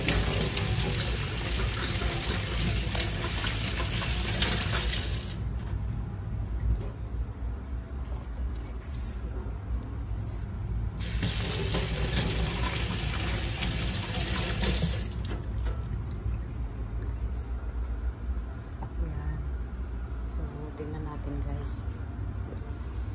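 Tap water runs hard into a sink while beef cubes are washed, a loud continuous gush that pauses briefly twice before flowing again.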